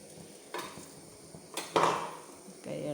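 Kerala-style rice ball dish with coconut and rice-flour batter stirred in a pot, giving a few sharp metallic clinks and scrapes of a spoon against the pot with soft shuffling between them.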